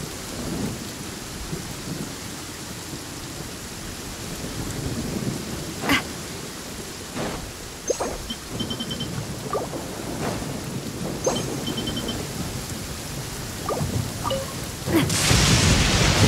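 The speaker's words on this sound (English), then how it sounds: "It's raining again." Steady rain with rumbling thunder in the video game Genshin Impact, set in the Fontaine region: a constant loud downpour broken by several sharp cracks and booms, with a heavier surge of rain at the end.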